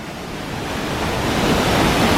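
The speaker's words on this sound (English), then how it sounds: "This is water coming down from the Mount Hermon" The Banias waterfall in northern Israel, fed by water coming down from Mount Hermon, makes a steady, loud roaring rush that grows slightly stronger throughout, with no voices.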